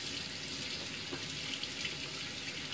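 Running tap water splashes steadily as a razor is rinsed at a bathroom sink while shaving, a constant close hiss with faint clinks and no speech.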